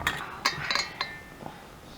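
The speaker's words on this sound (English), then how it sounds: "we just got to wipe them off and put on our jar lids" Glass canning jars and metal jar lids being handled, several bright clinks and taps in quick succession, close and fairly quiet.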